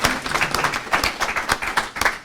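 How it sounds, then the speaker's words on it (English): Audience applause at a board of trustees meeting, a moderate burst of clapping with distinct individual claps heard fairly close, steady throughout without talk. "let's give a round of applause for those achievements"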